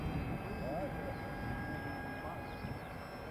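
Foamboard RC model of a Messerschmitt Bf 110 with a 56-inch wingspan coming in to land, a steady whining electric motor drone with a faint rising and falling pitch, heard from a distance over outdoor background noise.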